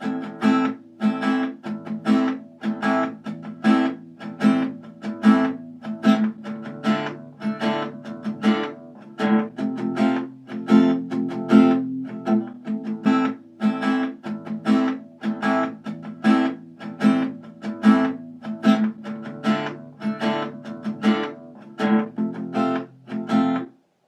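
Steady acoustic guitar strumming drives the verse chords of a song, in an even rhythmic pattern of bright, percussive strokes, close and alone for about twenty-four seconds.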